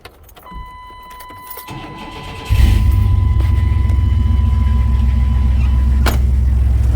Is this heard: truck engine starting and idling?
yes